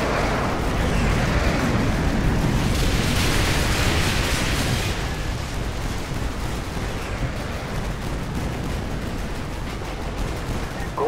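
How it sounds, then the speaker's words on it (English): Artillery strike called in by laser designator in Call of Duty: Modern Warfare 2, a loud rolling barrage of booms and rumbling blasts, heaviest early then settling into a sustained low roar. "Use your laser designator to call in artillery on those vehicles."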